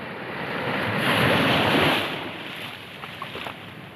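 A strong current of rushing water flows as a steady broadband roar that swells briefly and then settles, with some wind, up close.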